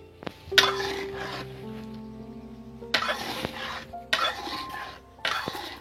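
Spoon stirring salted homemade tomato soup in a pot, giving scattered clinks and scrapes of metal on cookware in several short bursts, close and fairly clear with no talking.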